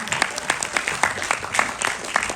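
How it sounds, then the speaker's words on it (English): Clapping from a motivational talk audience in Paris, a modest crowd applauding in a loose, uneven rhythm with distinct individual claps, moderately loud. "Why don't you guys clap?"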